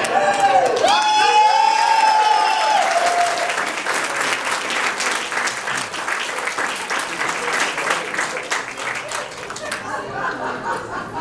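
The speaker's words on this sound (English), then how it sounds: "big round of applause for GQ's most handsome man of the year" A crowd at a business-building talk breaks into applause and cheering for a speaker introduced as GQ's most handsome man of the year, with whoops early on, then sustained clapping that thins slightly toward the end.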